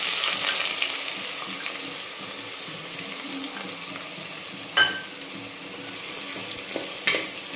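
A cupful of onion goes into hot oil for a Marathwada-style mutton chop curry, giving a steady broad hiss with one sharp crackle partway through and another small pop near the end.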